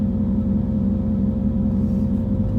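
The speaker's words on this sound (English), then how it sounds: "So you should be able to hear the exhaust." A truck with a new straight pipe exhaust rumbles steadily and loudly up close with a deep, droning tone. No talking is heard.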